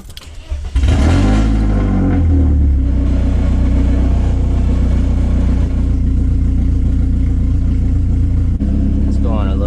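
A BMW Z3 roadster with a manual top starts off and drives on a hot day, its engine a loud steady low rumble that rises briefly then holds an even drone close by.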